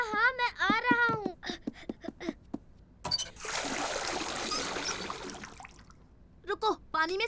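Water trickles and splashes steadily for a few seconds while a stain is washed in a cartoon, between bursts of animated character voices talking before and after.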